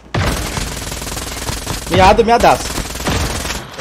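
Rapid gunfire in the Call of Duty battle royale game, dense bursts of automatic shots crackling loudly throughout, with a player talking over the shooting.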